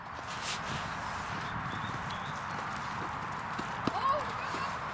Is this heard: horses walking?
yes